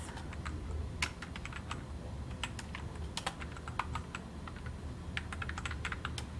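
Quick, irregular keystrokes on a computer keyboard as a file name is typed in, close and continuous for several seconds over a low steady hum, with no one talking.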